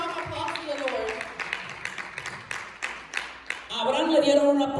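A church congregation applauding, a dense run of claps that continues under a preacher's voice before a rising swell of sound takes over.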